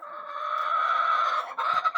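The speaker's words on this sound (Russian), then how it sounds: "Это курочка моя бородатая." A bearded hen in a snowy village farmyard gives a drawn-out, nasal, close-up vocal call, followed by a few shorter clucks.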